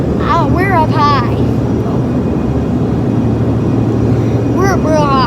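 A steady, loud broadband roar fills an airplane cabin in flight at high altitude on the way to Houston, constant throughout, with brief bright chirping sounds near the start and end.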